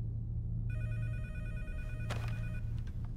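A video game phone in Watch Dogs 2 rings with a steady electronic trill. It is loud and close over a low humming game background.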